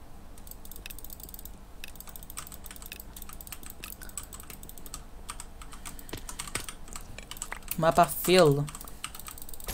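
Computer keyboard clicks rattle in quick irregular bursts while someone plays CubeCraft, close and fairly quiet, with a voice speaking briefly over them near the end.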